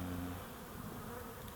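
Bees hum steadily around the entrance holes of a hive, a dense close-up buzz that continues without a break and with no voices.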